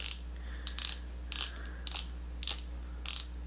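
A Maybelline Instant Age Rewind Eraser concealer is cranked by twisting its base, giving a series of crisp ratcheting clicks in short bursts at a steady rhythm, close and clear over a low hum.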